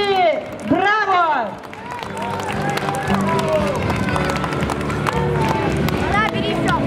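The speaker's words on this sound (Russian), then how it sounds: "Вам аплодисменты, красавицы!" Audience applause for a folk vocal ensemble at a stage concert: a rolling wash of clapping from the crowd, heard under a presenter's loud, excited announcing voice that carries through most of the stretch.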